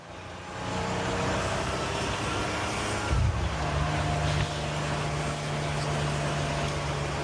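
A flat-six car engine plays back through speakers as a steady droning hum that swells briefly in a throttle blip midway, then settles into an even rumble.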